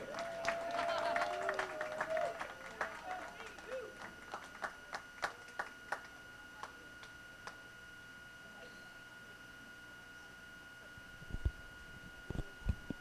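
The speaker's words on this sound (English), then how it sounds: "Let's give these ladies a big round of applause," Applause rises from the crowd at a college women's bowling league championship, heard faint and distant, thinning out into sparse scattered claps before quiet lane sounds.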